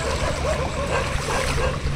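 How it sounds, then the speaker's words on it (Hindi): Floodwater rushes fast across a flooded cricket ground after heavy rain, a steady broadband roar with wind buffeting the microphone and no clear voices. "ये क्रिकेट ग्राउंड है, पूरा पानी से भर गया। और ये पूरा पानी जा रहा है बहुत तेज।"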